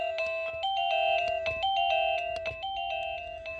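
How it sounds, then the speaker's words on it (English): A battery-free wireless doorbell rings repeatedly, loud and close, with bright electronic chime tones in a quick, steady repeating pattern and no talking. "you can still know the doorbell is ringing by the flash"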